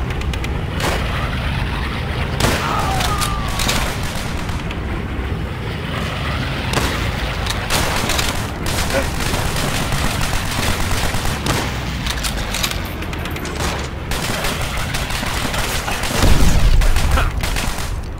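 Rifle fire and battle noise in the World War II shooter Call of Duty: World at War, with sharp gunshots and heavy booms over a constant rumble of combat, and a loud blast near the end.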